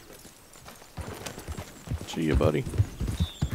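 Rhythmic horse hoof clip-clops in the video game Red Dead Redemption 2, under a voice, with a brief whinny-like sound partway through.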